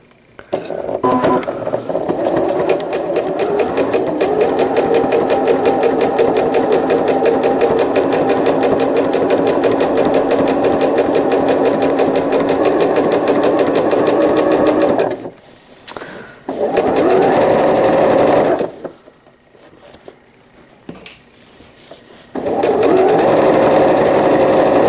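A home sewing machine runs zigzag stitching along elastic at the cut line of a cloth all-in-one diaper, with a steady loud whir that stops briefly twice and then starts up again.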